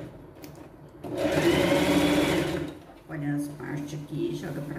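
Sewing machine stitching fabric for a pet backpack, one long close burst of fast whirring stitches followed by two shorter bursts after a brief pause, with a person speaking softly in between.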